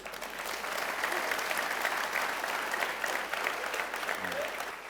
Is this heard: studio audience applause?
yes